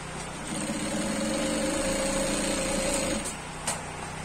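A sewing machine stitches an agbada in a steady, quiet mechanical whir for about three seconds, then stops, followed by a couple of faint clicks.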